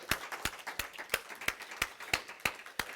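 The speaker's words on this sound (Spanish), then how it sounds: "Dele un fuerte aplauso a su Dios" Crowd claps in a steady rhythm at a church service, sharp slaps about three per second, fairly close and fairly quiet, with no voices.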